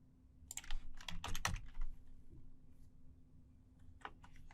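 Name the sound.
typing a command on a computer keyboard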